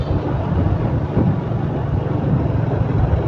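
A motorcycle engine strains up a steep, sharply winding hill, a steady low drone with slight rises, heard close alongside wind buffeting.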